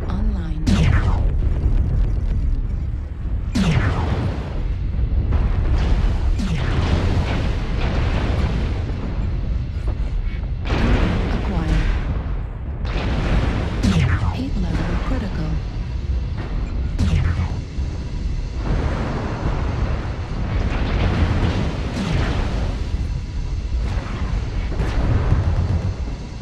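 Airstrike explosions in a video game, a series of heavy booming blasts roughly every couple of seconds, each with a sharp onset and rumbling tail over a dense, loud battle bed, with a synthetic announcer voice briefly speaking.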